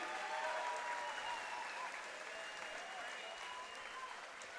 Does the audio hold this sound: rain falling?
no